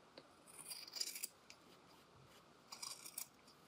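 Scissors snip through fabric facing just below a stitch line, two close, quiet bursts of crisp metallic cutting separated by a short pause.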